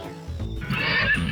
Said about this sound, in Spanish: Solo es el caballo relinchando.